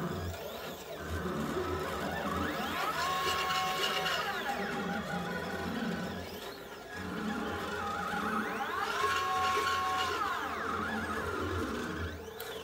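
A filament winder runs a dry wind test on a 54mm mandrel at about a 45 degree wind angle, giving a steady mechanical whir with two rising and falling motor sweeps as the carriage traverses, close and continuous with no talk.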